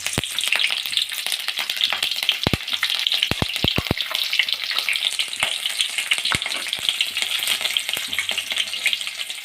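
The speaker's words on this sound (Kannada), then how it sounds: "ಎಣ್ಣೆ ಕಾದಿದೆ. ನಾನಿಲ್ಲಿ 3ರಿಂದ 4 ಹಸಿಮೆಣಸಿನ್ಕಾಯಿ ಹಾಕ್ತಾಯಿದ್ದೀನಿ." Three or four green chilies hit hot oil, producing a loud, continuous spitting sizzle with occasional sharp pops and clicks up close.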